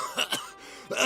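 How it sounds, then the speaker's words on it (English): A character in Pillars of Eternity 2 falls into a violent coughing fit: two or three quick, harsh, close bursts of coughing and throat clearing. "Vatnir immediately launches in a violent fit of coughing"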